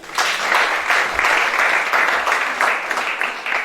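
Sustained, dense applause rises from a church congregation, steady and loud throughout with many hands clapping together.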